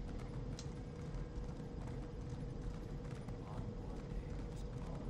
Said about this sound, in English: I used my crowns to buy that beauty. The beauty of a horse.